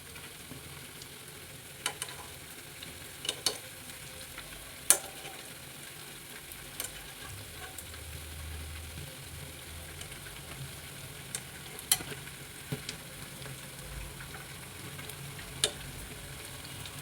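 Onion vadas (ulli vada) deep-fry in oil with a continuous hiss and bubbling sizzle, broken by scattered sharp pops and crackles, steady and close with no voices.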